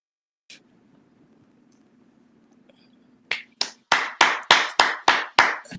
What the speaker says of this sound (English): A hand clap to you